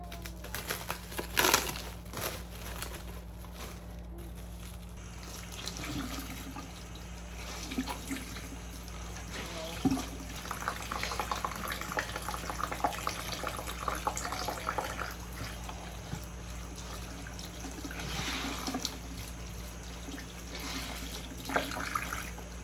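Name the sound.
rinsing tie-dyed cotton t-shirts under running water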